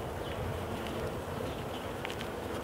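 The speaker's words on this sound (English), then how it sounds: "there's quite a few bees in this one" Honey bees in a UK hive drone in a dense, steady buzz, close and continuous, with a few individual bees whining briefly louder near the top.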